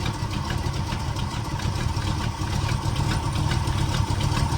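An old truck's engine idles steadily, a continuous low rumble with a faint rhythmic knock running under it, loud and close with no voices.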